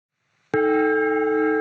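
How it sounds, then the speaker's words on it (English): A gong sample played back on a Tasty Chips GR-MEGA granular synthesizer strikes once with a sharp attack, then rings on as a loud, sustained metallic drone with steady shimmering overtones. "You can hear the difference in volume when the gong moves sideways."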